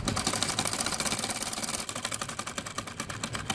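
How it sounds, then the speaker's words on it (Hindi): A sewing machine stitches pajama trouser fabric with a rapid, steady mechanical rattle of evenly spaced needle strokes, close and continuous with no voices. "पहले हम आपको सिलाई लगा कर दिखाते हैं।"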